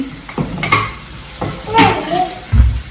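Onion with a pinch of salt frying in a pan, with a soft sizzle under repeated stirring scrapes and light utensil clinks against the pan, close and moderately loud.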